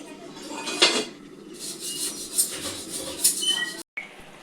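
A cooking pot lid is handled and lifted by hand in a home kitchen. Several close metallic scrapes, clinks and rubbing sounds come over a low background hum, and the sound cuts off briefly near the end.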